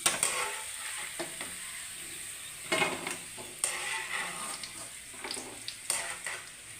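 Cashews and raisins fry in hot oil for a vegetable biryani, a steady bright sizzle broken by a few sharp scrapes and stirs of a spoon against the pan.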